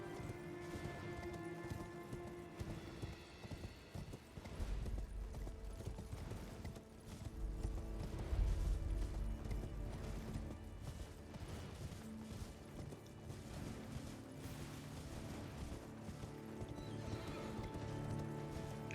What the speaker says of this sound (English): This should just be a minute or two of riding on my horse.